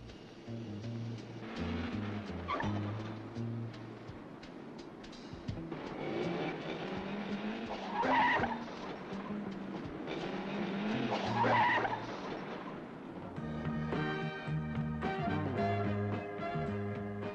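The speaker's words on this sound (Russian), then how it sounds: "На заводе имеется свой испытательный трек, где новорожденные «Жигули» делают свои первые шаги." New Lada Zhiguli cars being driven on the VAZ factory test track in the USSR: engines roaring and tires squealing as cars sweep past, with louder passes swelling midway, over a steady tonal background.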